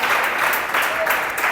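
A church congregation at a Pentecost sermon claps together in thick, continuous applause, with faint voices mixed in beneath the steady patter of hands.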